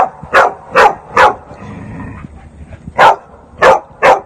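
A dog stranded in North Carolina floods barks loudly up close, three sharp barks, a short pause with faint background noise, then three more.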